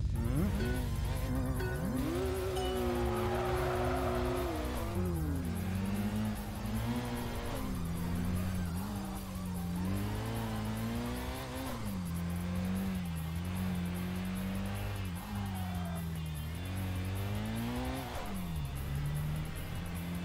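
Toyota Supra race car engine in the video game Tokyo Xtreme Racer Drift 2 revs and shifts repeatedly over about twenty seconds, its pitch climbing and dropping with each gear change, loud and unbroken, with no talk.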